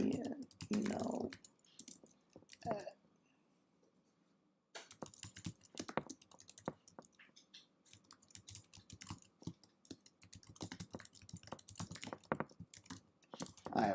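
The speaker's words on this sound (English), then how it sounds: "I apologize for not speaking while typing." Fingers type on a computer keyboard in quick, uneven bursts of close clicking, with a brief pause partway through, and no talking.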